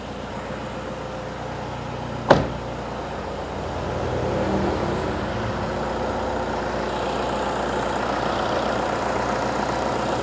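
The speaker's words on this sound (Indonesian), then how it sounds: "Alhamdulillah dari mesin sudah bisa hidup kembali." A Toyota Innova 2KD diesel engine runs after being reassembled in a workshop. A sharp click comes first, then a steady, low idling rumble that continues evenly and fairly close throughout.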